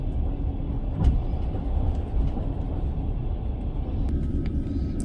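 Road traffic rumbles steadily while crossing the Crimean Bridge, heard from inside a moving car as a continuous low drone with a faint thump early on.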